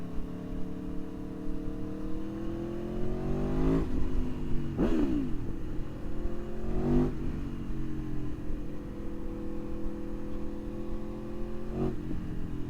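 A 2019 Aprilia Tuono V4 Factory motorcycle rides with a steady engine drone, and its gear shifts and revs rise and fall several times. The sound is close and continuous, with no speech.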